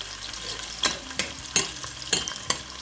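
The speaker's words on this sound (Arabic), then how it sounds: "وحط الثوم كمان، قليه حمر الثوم شوي." Garlic frying in a pan for an okra stew, a soft steady sizzle broken by several sharp scraping stirs at a fairly even pace, close by, with no talking.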